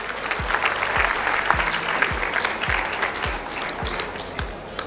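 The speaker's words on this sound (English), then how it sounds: "Let's also give them a round of applause." Audience applause for bystanders at a Rotary district conference in Naivasha, a steady wash of clapping throughout, with a few louder low thumps recurring underneath.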